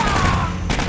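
A sentry gun in the video game Aliens: Colonial Marines fires a dense, continuous burst of automatic fire, loud and close, lasting under a second.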